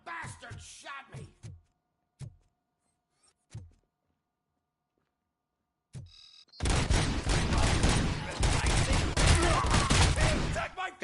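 Sustained gunfire from RoboCop: Rogue City erupts loud and dense after a few seconds, preceded by short bursts of talk and brief sharp sounds separated by silence.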